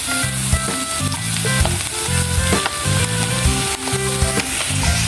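Carrots and vegetables for lumpia sizzle loudly in a hot frying pan, a constant crackling fry with rhythmic scraping and stirring strokes throughout, no talking.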